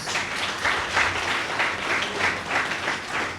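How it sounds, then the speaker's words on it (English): An audience gives a round of applause for students at a school results announcement, a broad crowd of clapping hands with a gently pulsing, sustained texture at moderate loudness, heard alone without talk. "for this they deserve a round of applause"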